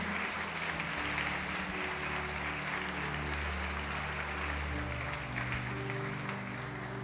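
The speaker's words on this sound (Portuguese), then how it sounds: "Pode aplaudir, glorifica a Ele" A church congregation applauding during a sermon, steady continuous clapping at moderate distance over a sustained low organ or keyboard chord backdrop, with no voices on top.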